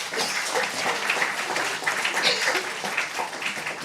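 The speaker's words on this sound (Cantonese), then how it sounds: "俾啲掌聲人哋" Steady applause from an audience at a church vision-sharing prayer meeting, dense and sustained throughout with no voices standing out.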